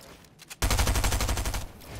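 Rapid automatic gunfire in the Fortnite video game, a dense burst of about a second after a few lighter shots, loud and close with no talking.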